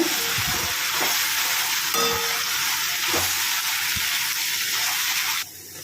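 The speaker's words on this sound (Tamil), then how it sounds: "இப்போ வெங்காயத்தால் சேர்த்துருவோங்க. நல்லா வதக்கி விடுங்க." Chopped spring onion sautés in a pan with tomato for sambar, giving a steady, close sizzle and frying hiss broken by a few scraping stirs, then dropping off sharply near the end; nobody speaks.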